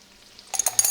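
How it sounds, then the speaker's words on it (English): Vegetables for a spinach, fennel and white bean gratin get a quick stir in a pan with butter and olive oil, a short burst of scraping and soft sizzle after a near-silent start. "we're going to give this a quick stir, just to make sure all the veggies are slick with the butter and the olive oil"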